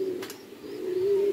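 Pigeons cooing inside a tin-roofed, net-sided pigeon house, a steady low coo close by, swelling near the end.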